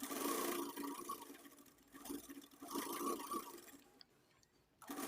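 A domestic sewing machine stitching a blouse piece runs in a steady mechanical whir with a fine ticking rhythm, faint and continuous, easing off briefly near the end before starting again.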